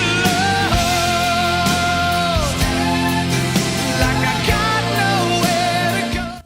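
An excerpt of a ballad, with a sustained vocal line gliding over a full, dense band accompaniment at a steady level before fading abruptly at the end.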